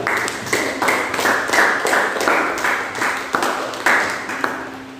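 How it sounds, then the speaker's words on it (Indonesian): Classroom applause for a student group, a loose rhythmic clapping with distinct sharp claps recurring in a steady beat for several seconds, close and fairly loud. "Tepuk tangan untuk kelompok 2"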